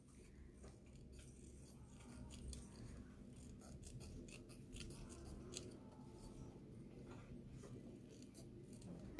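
Scissors trimming scrapbook paper, a quick run of crisp snips and slicing clicks up close, faint and unhurried, with no voices over it.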